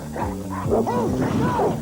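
Dog barks and yips heard over a steady low background, several short bursts spread through the clip, moderately loud and close.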